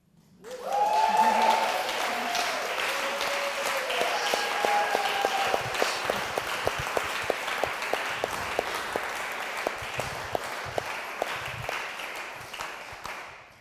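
Audience at a talk on kinship and indigeneity bursts into applause, rising quickly to a full, dense clapping sound, then thinning into scattered individual claps that fade out near the end.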